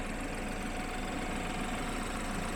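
A 2015 BMW 228i xDrive convertible's direct-injection engine idles with the hood open, giving a steady, quiet, even hum with no voices.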